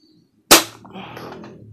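One sharp, loud shot from an Ares Amoeba Striker S1 airsoft bolt-action sniper rifle, firing 0.20 g 6 mm BBs, cracks out after a moment of quiet, followed by a short rattling tail as it fades.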